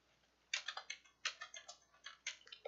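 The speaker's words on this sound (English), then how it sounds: "go ahead and start typing what you want to type" Typing on a computer keyboard: quiet, close keystrokes in three short quick bursts, alone in a silent room.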